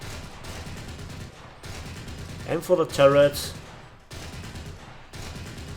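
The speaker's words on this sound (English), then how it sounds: "Let's see if we can kill him with the gunfire alone." Rapid cannon bursts from a BMP-2 infantry fighting vehicle in War Thunder, a short cluster of sharp shots midway through, with engine rumble beneath and someone talking over it.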